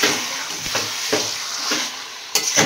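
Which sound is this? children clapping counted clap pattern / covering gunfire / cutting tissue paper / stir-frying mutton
stir-frying mutton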